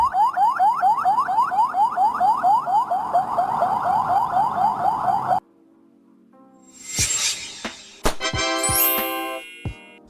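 Albanian ambulance siren, likely on a Mercedes-Benz, Fiat Ducato or Volkswagen Crafter, repeating a rapid rising yelp loudly for several seconds before cutting off, followed by scattered metallic clanks and rings.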